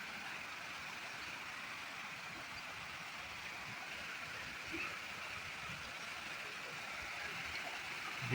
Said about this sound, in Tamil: தண்ணி சல சல சலன்னு ஓடிக்கிட்டு இருக்கு பாருங்க